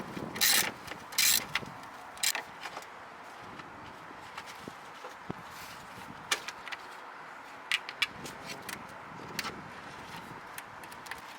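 A ratchet works loose the 8mm mounting bolts of the power steering reservoir on a Mercury Grand Marquis during a radiator replacement. Short bursts of clicking come first, followed by sparse, faint metallic ticks and clanks.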